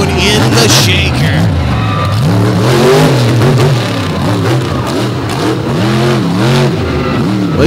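A monster truck engine revs hard at an arena show, roaring loud and close with repeated rising and falling surges over a steady rumble, while an announcer talks over it.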